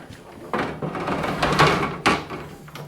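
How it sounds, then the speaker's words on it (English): An old wooden front door of a 150-year-old rural farmhouse scrapes and thumps against the floor as it is forced open, giving several loud, close scuffing bursts and knocks. "The front door is fighting with me."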